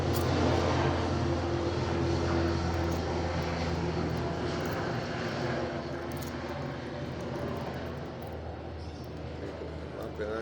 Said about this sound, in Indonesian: Dengan suara helikopter, karena kebetulan saya tinggal di dekat bandara helikopter ya